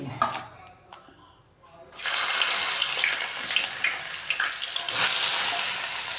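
Onions dropped into hot ghee for a tadka break into a loud, steady sizzle after a quieter opening with faint kitchen sounds, the frying hiss staying bright and dense with small bursts until the end.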